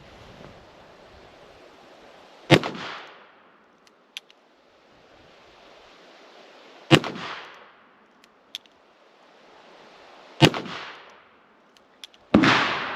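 Four loud, sharp rifle shots from modern smokeless cartridges loaded with black powder, each spaced several seconds apart and followed by a brief ringing decay, over quiet outdoor background with faint clicks between.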